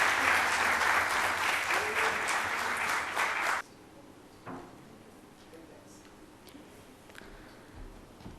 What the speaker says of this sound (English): Can we please have another round of applause for Rashmi?